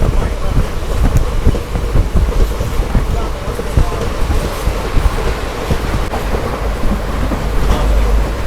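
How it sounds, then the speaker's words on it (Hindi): Rain falls during a journey on the Amritha Express from Madurai toward the Pamban bridge. A dense, steady, loud rushing and rumbling continues throughout, with no one speaking. "बारिश हो ही रही है रूट पे।"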